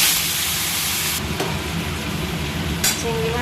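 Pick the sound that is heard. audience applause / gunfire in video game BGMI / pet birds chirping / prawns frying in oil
prawns frying in oil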